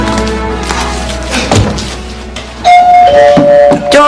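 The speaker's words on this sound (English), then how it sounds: "Doorbell." A doorbell in a sitcom home chimes loudly after a couple of dull thumps, its bright two-tone ding-dong ringing out clearly and sustaining near the end.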